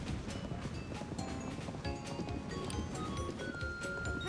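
Hooves of the horse Epona gallop in Zelda: Tears of the Kingdom, a rapid, continuous clip-clop rhythm under busy game noise, fairly close and steady throughout.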